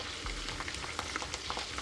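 Steady frying sizzle of curry leaves and whole spices in hot oil for homemade chanachur, a dense, continuous crackle with small pops, close and even throughout.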